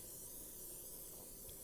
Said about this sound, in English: and you just spray it on